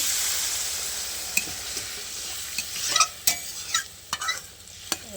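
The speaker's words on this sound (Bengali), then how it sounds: "তো মশলাটা আমার অলরেডি কষানো হয়ে গেছে, এবার আমি একটু ঝোলের জন্য জল দিয়ে দিব" Water is poured into a pan of sizzling fried spice paste for a fish curry. A loud hiss and sizzle comes first and then eases, with scattered clinks and scrapes of a spoon against the pan.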